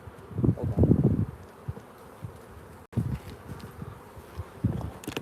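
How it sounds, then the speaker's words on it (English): Honeybees buzzing around an opened hive during a live inspection, loud close bursts of buzzing that come and go in waves over a quieter hum, with rustling handling noises between. "I just feel like it's really loud with the bees buzzing there."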